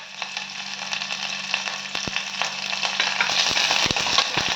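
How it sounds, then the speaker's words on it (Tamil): Onions, green chili and curry leaves sizzle steadily in hot oil for mutton chops, a dense close crackle with occasional sharper pops and stirring taps, no voices. "எண்ணெய் காய்ஞ்சிருச்சு வெங்காயம் போட்டுக்கோங்க பச்சை மிளகா கொஞ்சம் ஃப்ளேவருக்கு கொஞ்சம் கருவேப்பிலை"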